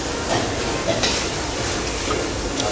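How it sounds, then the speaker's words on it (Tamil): Fish frying in oil at a busy roadside street stall beside Mettur dam, a steady close crackle and hiss running throughout with faint ambient clatter. "ஒரு ஸ்ட்ரீட் ஃபுல்லாக வந்து ஃபிஷ்ஷு நமக்கு ஃப்ரை பண்ணி தந்துட்டுருக்காங்க"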